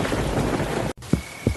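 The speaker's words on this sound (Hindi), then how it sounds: "आसमान में बिजली कड़कती रही, बारिश मूसलाधार बरसती रही।" Heavy rain pours steadily in a thunderstorm, then cuts out briefly before two deep thunder rumbles roll in, with rain hissing around them.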